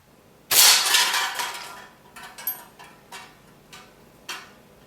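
A Metro Grade Goods Hydra slingshot fires at a target about 18 feet away, with one loud sharp crack followed by a few fainter, evenly spaced clacks and rattles.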